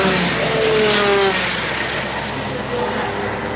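A race car roars past, engine noise holding steady with a tire rush over a constant wash of track noise, loud and close.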